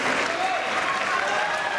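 An audience applauds at a farewell show in Paris, a dense and steady wash of clapping that lasts through the whole moment, with faint vocal sounds mixed in.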